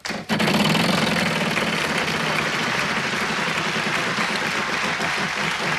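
The Wheel of Fortune game show wheel spins on a 1993 studio set, giving a loud, fast, continuous ticking that runs steadily over crowd noise from start to finish.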